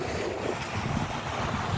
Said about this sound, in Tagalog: Oh, ayan oh, ang alon nangangalit.